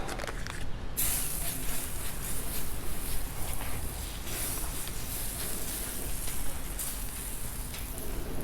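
Butter sizzles on a 36-inch Blackstone griddle ahead of cooking eggs, a steady crackling hiss with small pops and scrapes throughout, loud and close.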